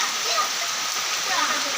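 Summer rain falls steadily, a dense, even hiss of drops pattering close by without pause.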